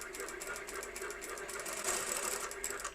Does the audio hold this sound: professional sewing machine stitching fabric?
yes